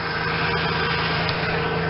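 An old truck engine idles with the hood open, a continuous low rumble with an even mechanical throb, steady and close, and no voices over it.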